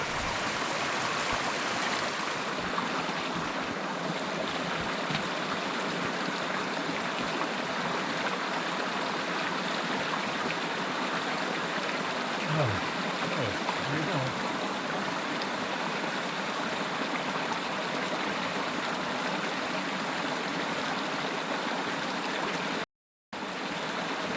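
A frosty outdoor stream runs steadily through brush on a backpacking trip, a continuous close rush and babble of water with no talking.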